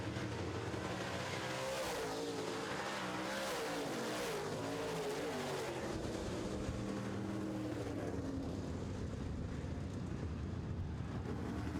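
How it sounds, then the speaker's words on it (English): Late model race cars roar around an oval track in a continuous, dense wash of engine noise, several cars overlapping and rising and falling as they pass, loud and unbroken throughout. "We are late model racing."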